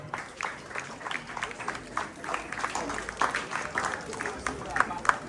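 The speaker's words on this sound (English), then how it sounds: "Let's clap for her." Audience clapping at a school Independence Day celebration, a steady crowd patter of hands rising and falling as guests on the high table are introduced, with some voices mixed in.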